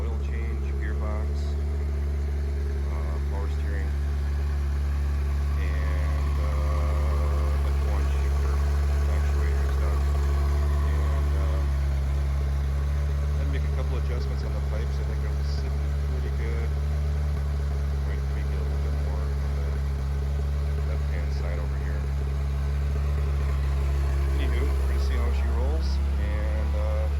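A Ferrari F355 engine idles steadily with a new exhaust, a deep, low exhaust rumble throughout, close by and constant, with faint clatter on top.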